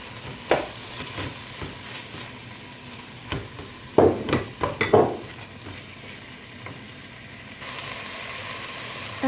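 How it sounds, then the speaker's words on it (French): Meat browns in a pan with peppers, a low steady sizzle broken by several sharp scraping stirs, the loudest clustered midway through. "Je fais revenir la viande."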